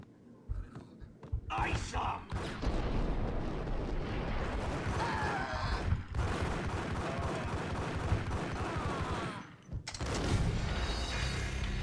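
Shotgun fire in the video game Max Payne: loud, noisy bursts in an almost continuous barrage, broken by a couple of brief gaps, with a faint voice near the start.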